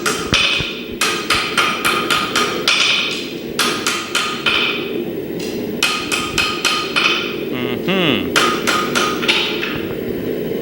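A bladesmith hammers and curves a blade on an anvil, delivering rapid bursts of ringing metallic strikes in quick clusters with brief pauses, loud and close, with no talk over them.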